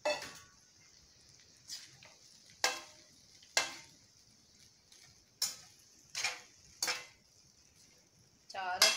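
A spoon scrapes and clinks against a pan while sweet corn and carrot rice is mixed, with sharp metallic taps spaced irregularly over a quiet background and a faint hum between strokes.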